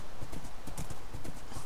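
Horse hooves clip-clop in a steady, even rhythm while riding in the Minecraft video game, close and continuous with no talk over them.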